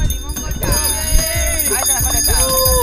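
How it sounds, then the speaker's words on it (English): An ice cream vendor's bell rings repeatedly in bright, clear tones on a street in El Salvador, with traffic and background noise under it. "When you make it to the top, listen to that bell."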